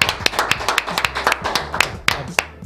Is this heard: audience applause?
yes